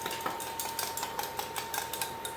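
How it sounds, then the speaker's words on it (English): Whisk stirring flour into beef broth in a pot, rhythmic metallic clinks and light scraping repeating about every quarter second, close and fairly quiet with no talking. "I'm going to put about half of that or so into the broth and whisk it around."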